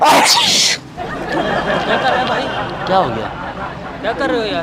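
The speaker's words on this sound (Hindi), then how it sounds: "छींक आ गई मेरे को ना।" A loud, abrupt sneeze from a man with a cold, outdoors during a street prank in Pakistan, bursts out close to the microphone, followed by people talking.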